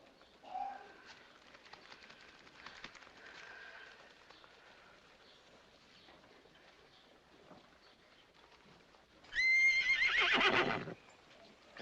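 A horse lets out a loud, close whinny near the end, a shrill whinny of about a second and a half, after a long stretch of faint hooves, cooing pigeons and quiet ambient noise.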